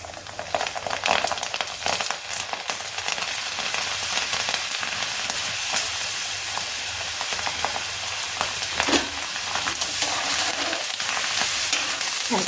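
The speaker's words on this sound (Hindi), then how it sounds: "देखिए तेल जो है काफ़ी गर्म कर लीजिए। इसके बाद इस दाल को डालिए" Chana dal frying in hot oil in a pan, stirred with a spoon: a steady dense sizzle runs throughout, with scraping stir strokes breaking through now and then.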